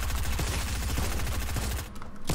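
Gunfire in the video game Fortnite: rapid, rhythmic bursts of shots fired in quick succession that stay loud and close, with a brief dip near the end before the firing resumes.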